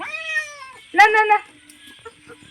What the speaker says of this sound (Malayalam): പൂച്ചകളൊക്കെ വെറികാട്ടൽ തുടങ്ങി അല്ലേ.